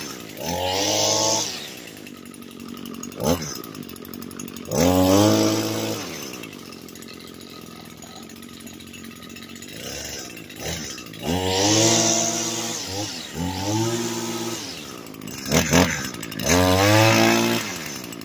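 A 2023 Echo SRM-225 string trimmer revs up and drops back to idle several times, the high whining bursts rising and falling in pitch between quieter idling stretches, moderately close with no talk.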